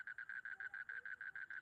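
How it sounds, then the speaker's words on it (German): A family of frogs croaking in a Swiss German bedtime story, a steady run of about a dozen evenly spaced, bright croaks repeating in a quick regular rhythm, fairly faint and with no talking. "Unterwegs haben sie eine Familie Frösche angetroffen."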